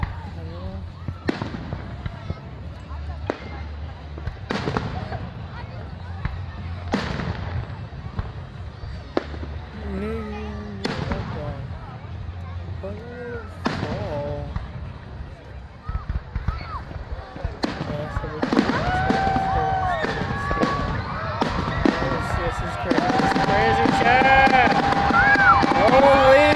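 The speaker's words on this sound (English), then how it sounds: "Just endless fireworks, chat." Fireworks exploding at a fireworks event in America, repeated booms and crackles every couple of seconds that build into dense overlapping bursts and crackling, with people talking between them.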